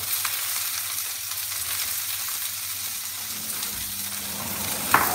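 Onions fry in hot oil with cumin seeds in a pan, giving off an even, steady sizzle close by. The hiss stays level throughout, with a small clink near the end.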